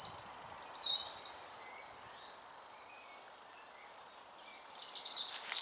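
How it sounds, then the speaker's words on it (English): Birds sing faintly in the woods, with scattered distant chirps and short song phrases over a soft, rustling outdoor background. The calls grow a little busier at the start and end. "you can hear the birds singing"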